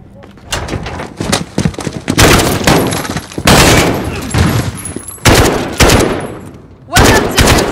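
Bursts of gunfire from a Modern Warfare campaign shootout, loud and close, with sharp volleys and rapid automatic fire in several clusters, separated by brief lulls.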